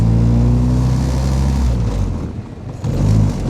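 A 1950s Triumph TR2 sports car engine revs hard under acceleration, drops off briefly during a shift into third gear, then pulls strongly again, loud and close with no talking.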